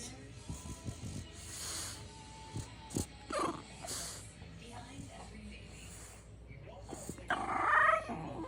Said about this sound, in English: What would you call that growl?